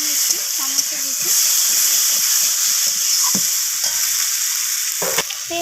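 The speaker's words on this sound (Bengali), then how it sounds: "তো আবারও এইভাবে একটু কষিয়ে নিচ্ছি সমস্ত কিছু।" Green chilli and coriander leaves sizzle steadily in a hot pan, with scattered scrapes and knocks from stirring, close and continuous.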